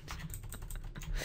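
Quick close keystrokes on a computer keyboard while typing code, a brisk irregular run of soft clicks.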